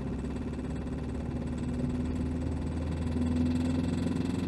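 A Renault Twingo engine with 740,000 km on it and a worn bearing runs steadily, giving a continuous mechanical hum with a faint repetitive knocking beneath it, close and fairly loud.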